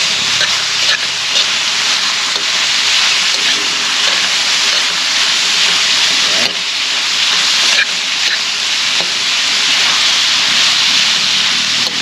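Onion, garlic and tomato sautéing in hot oil in a home kitchen, a loud, steady hiss and sizzle running the whole time with a brief dip partway through.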